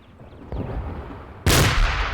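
A mortar firing in a war video game, a muffled thump followed about a second later by a loud, sharp blast that rings out briefly, with no voices.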